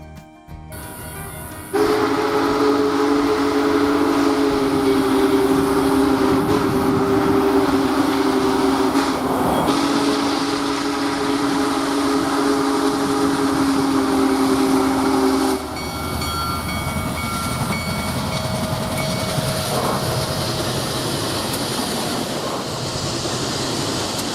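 The Union Pacific Big Boy steam locomotive rumbles past nearby near Pittsburgh, Texas, loud and steady, with a long sustained horn blast over the rolling noise before it eases off.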